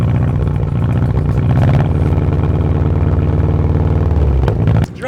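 A BMW F30 engine runs rough and loud with a heavy, uneven, tractor-like chugging that pulses steadily, then cuts off abruptly near the end.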